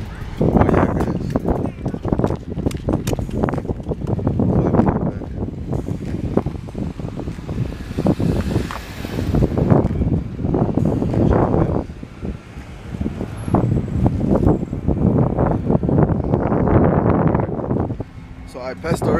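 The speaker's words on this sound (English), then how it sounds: "It's like so windy right now" Strong gusty wind buffets the microphone outdoors in a loud, uneven roar that surges and eases in waves, with a person talking under it throughout.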